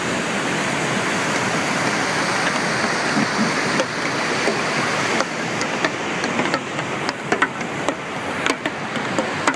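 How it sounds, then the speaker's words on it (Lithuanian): Mediterranean Sea waves washing onto the shore in a steady, loud, broad rush of surf, continuous throughout with slight swells and a few small knocks. "Štai galiu parodyti Viduržemio jūrą."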